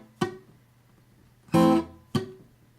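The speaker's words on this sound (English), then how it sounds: "So with the chord and the flick, it'll sound like this." An acoustic guitar strikes a chord, followed a moment later by a short, percussive flick across muted strings and a final quick strum; three distinct close attacks with silence between.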